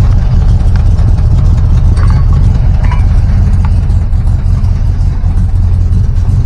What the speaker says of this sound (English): Sounds like glass packs and headers to me.